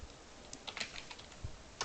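Typing on a computer keyboard: a few faint, scattered keystroke clicks in irregular bursts, heard alone against a quiet background.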